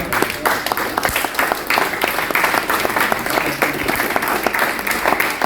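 A church congregation breaks into loud, sustained applause, many hands clapping densely and evenly throughout, with faint voices mixed underneath.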